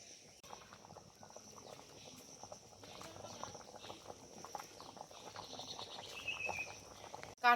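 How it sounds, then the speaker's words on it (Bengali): Jackfruit seed dal simmering with fried fish head in a pot, giving a steady, soft bubbling and popping texture that is faint but continuous and ends in a brief louder knock. "দেখো ডাল খুব ভালোভাবে ফুটে উঠেছে।"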